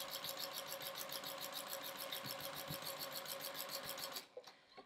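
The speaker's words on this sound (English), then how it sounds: "So I'm just going to sew next to the ruler using the ruler as a guide." A domestic sewing machine quilting with a walking foot along a ruler runs in a fast steady stitching hum, close and loud, then stops abruptly near the end; no talk.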